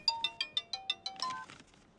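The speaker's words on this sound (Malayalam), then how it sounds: "ആ ഫോൺ റിംഗ് അടിക്കുന്നു സാറേ." A phone ringtone plays as a rapid run of about eight short electronic beeps, then a brief sustained tone that fades out. Moderately quiet and heard alone.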